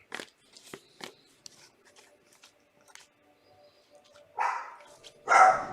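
A single dog barks a few times, short and fairly loud, near the end of a quiet stretch of small rustling and crinkling sounds while baseball card packs are opened at home.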